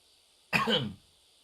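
A single harsh cough bursts out close by, short and rough, surrounded by near silence.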